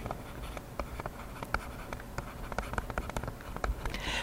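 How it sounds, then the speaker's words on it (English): Pen or marker writing by hand on a surface, likely a whiteboard or paper during a science lesson, with a steady scratching and tapping of strokes close up and no talk over it. "we have got to write this right"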